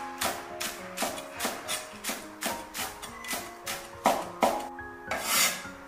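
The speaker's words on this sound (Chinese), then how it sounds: "准备把小葱，我们只取葱叶，" A knife chopping scallion greens on a cutting board for braised lamb, a steady series of about a dozen crisp close cuts with music underneath.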